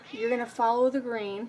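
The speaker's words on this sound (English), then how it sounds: "You have to excuse my cat meowing in my ear." A pet cat meows close by while someone speaks over it, its cries blending with talk about threading a Brother 1034D serger.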